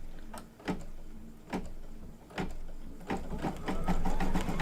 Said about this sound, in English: And now we're going to stitch it down.